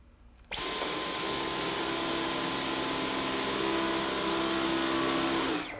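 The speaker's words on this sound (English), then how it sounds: "So a sound that your vacuum makes, if it's too loud, you don't want it." A Dyson V11 Torque cordless stick vacuum switches on abruptly and runs with a steady high-pitched whine and airy rush, close and continuous, cutting off at the end.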